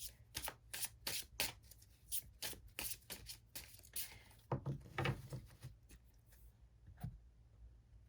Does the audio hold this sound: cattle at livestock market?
no